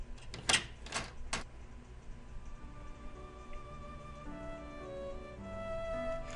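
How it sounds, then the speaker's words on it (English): A door opening in the Katawa Shoujo visual novel: a few quick latch clicks and knocks early on, then soft sustained musical tones take over, all fairly quiet. "The door opens completely"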